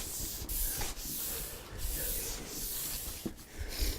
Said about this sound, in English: I just have this Scotch-Brite stuff wrapped around some old files.